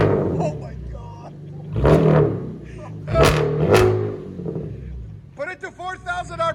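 A Chevy Camaro with a 3.6L V6 and aftermarket exhaust idles and then revs to about 4,000 RPM, giving a loud close roar in two sharp rising bursts over a low rumble, while people talk excitedly nearby.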